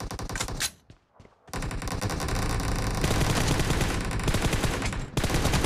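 Rapid automatic gunfire from the mobile battle-royale game PUBG Mobile, loud, dense bursts running almost continuously with one brief pause near the start.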